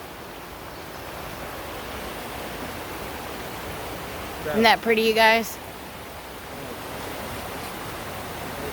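Steady broadband rush of water at the base of a waterfall in Cleveland Metroparks near the Viaduct in Bedford, Ohio, running throughout with someone briefly talking over it midway.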